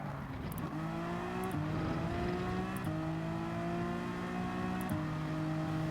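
A race car engine in Gran Turismo 7 at Watkins Glen, slipstreaming a Ferrari, drones loud and steady with a rising whine, stepping down in pitch at several quick upshifts.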